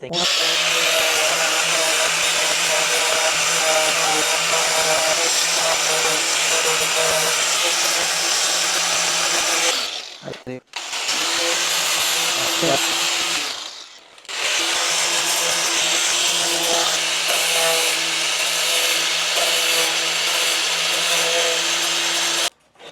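A power grinder works a metal golf club shaft being made into a snake hook, running as a loud continuous whine that drops out briefly twice before resuming.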